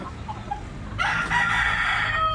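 A young white huckle stag rooster crows loudly and close by, one sustained crow rising from quiet farmyard background and holding for over a second.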